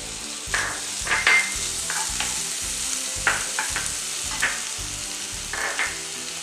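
Ginger garlic paste, onion and green chillies fry in a pan for a chicken bread pakora snack, with a steady gentle sizzle and repeated rhythmic stirring scrapes, close and moderately quiet.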